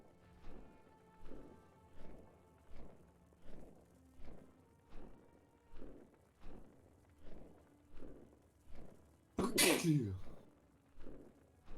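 A single sharp sneeze bursts out loudly near the end, over a quiet, steady rhythm of regular footsteps that continues before and after it.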